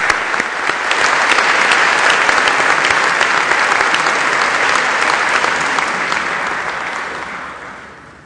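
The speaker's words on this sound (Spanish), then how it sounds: "Un aplauso para los ciudadanos candidatos," Sustained audience applause for candidates at an academic debate in Guadalajara, dense steady clapping from a sizable crowd that swells quickly, holds for several seconds and then tapers away.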